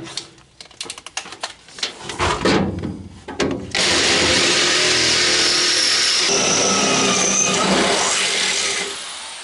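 An 8.5 mm bit drills through metal while installing rear seat belts on a Citroën Traction 11B, starting with short tool bursts and then settling into one loud, steady, continuous whine that runs for several seconds before easing off.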